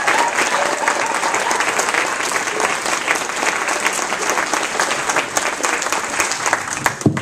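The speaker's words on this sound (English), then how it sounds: "let's start the afternoon with a round of applause for our student employees" A room full of people gives a sustained round of applause at a university ceremony honoring student employees, dense steady clapping lasting the whole stretch with faint crowd murmur underneath.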